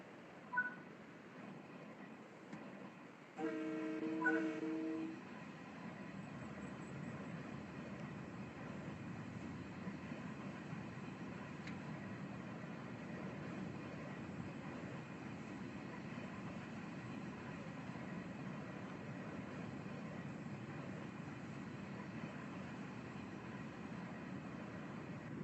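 A short burst of telephone-like tones, then a steady low rumble of a train rolling into Crestwood Station in a VR game, continuous and even, with no talking.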